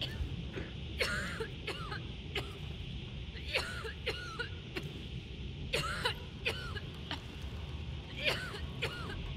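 Coughing repeats in short bursts, roughly a dozen, in an online shooter game, over a constant noisy background.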